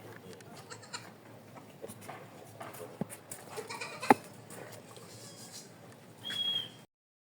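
Goats bleat faintly at a goat farm in a busy outdoor setting, with a couple of sharp clicks and a thin high whistle near the end.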